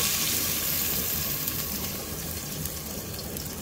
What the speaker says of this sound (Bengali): এই মুহূর্তে কষানোর জন্য অল্প একটু পানি দেওয়া হচ্ছে।